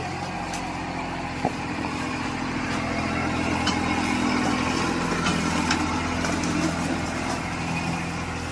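A tractor engine runs steadily nearby in a papaya orchard, a constant low rumble and drone with a few faint clicks, no voices.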